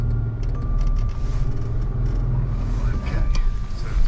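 A 1973 VW Bay Window campervan pulls away, its low engine rumble and drone running steadily and close, with a voice talking over it.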